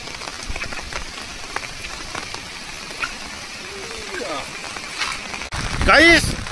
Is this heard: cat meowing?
no